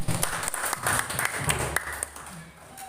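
Teachers in an audience at a school training session clap together for a speaker's question. The claps are a dense patter and voices talk over them throughout.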